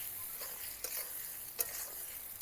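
Onions sizzle steadily in a hot pan for a Bengali lota fish bhuna, with a few sharp scrapes of a spatula stirring through the hiss and no voices.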